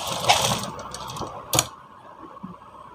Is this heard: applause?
no